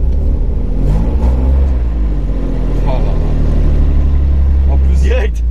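A drift car's engine on a circuit makes a loud, continuous low rumble with rising revs, while someone talks over it close by.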